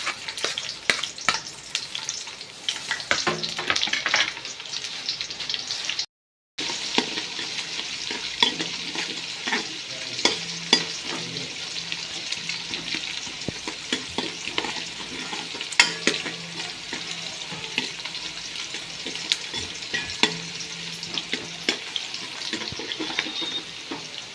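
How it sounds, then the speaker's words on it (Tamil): Sliced onions and green chillies frying in a pan with whole spices for vermicelli pulao, giving a steady close sizzle with repeated stirring scrapes and a brief cut in sound partway through. "பச்சை மிளகா வெங்காயம் வெட்டி வச்சுருக்கோம் அதையும் போட்டுருவோம்"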